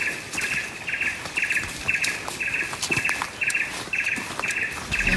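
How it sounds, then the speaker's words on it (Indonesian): Forest birds sing in dense tropical woodland in Ujung Kulon National Park, with a repeated bright chirping phrase at a steady rhythm over a thick, continuous chorus of other calls, fairly near and alone. "Kami disambut dengan suara burung hutan."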